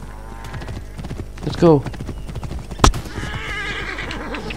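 A horse in Assassin's Creed Origins lets out a loud whinny, then hooves clop beneath it and a sharp crack follows, with voices talking in the game throughout.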